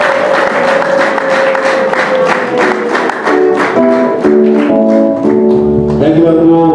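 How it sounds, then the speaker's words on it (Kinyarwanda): Applause at a wedding ceremony, clapping that runs steadily through the whole stretch while music with sustained tones plays along. Voices come in partway through. "amashyi menshi cyane."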